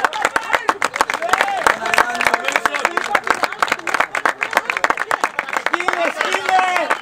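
A crowd claps quickly and continuously while several voices shout and cheer over the applause.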